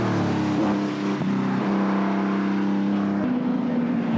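A racing car roars past on the track during a race, its engine a loud, steady drone with shifting pitch as it passes close by.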